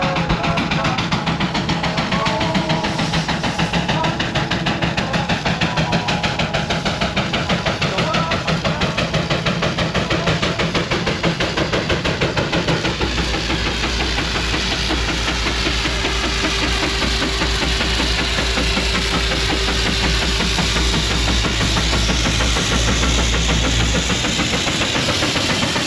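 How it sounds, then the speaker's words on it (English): A McLaren steam traction engine hauls a heavy haulage boiler up a hill at a steam rally, its loud, steady chuffing and mechanical rumble continuing without a break and growing heavier in the lower range toward the end. "Next is then a McLaren traction engine pulling the heavy haulage boiler again."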